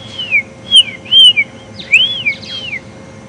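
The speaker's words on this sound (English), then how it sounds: "lovely lilting chorus of the magpie shrike" A magpie shrike sings a lilting chorus of clear, sliding whistled notes in the bush of a game reserve, several phrases rising and falling over soft background hum, fairly close and prominent.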